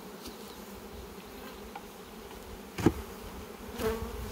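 Honey bees buzzing around a nuc hive, a steady faint insect hum close by with a few louder passing buzzes from individual bees, no talking.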